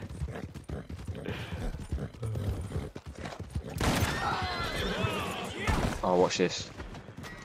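Horse hooves clip-clop and a horse whinnies in the Western video game Red Dead, with gunfire nearby and a player talking over the action.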